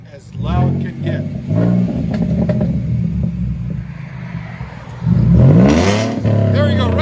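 Loud aftermarket exhaust on a Ford Mustang 3.7L V6 revving hard in repeated surges, a deep throaty rumble with a sharper climb near the end, under excited talking.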